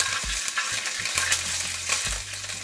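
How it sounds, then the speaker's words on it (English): Garlic and ginger paste fries in leftover oil in a pot, giving a steady close sizzle with intermittent scraping and stirring clatter, no talking. "To the oil that is left in the pot, I'm going to add some garlic and ginger paste so that I can get my vegetables start cooking."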